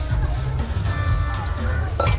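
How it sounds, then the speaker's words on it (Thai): Metal spatula scraping and clanging against a wok, busy stir-frying fried rice with a low sizzle underneath and a brighter clank near the end, at a night market food stall in Hua Hin, Thailand. "เสียงผัดเคาะกระทะเรียกเรามาค่ะ"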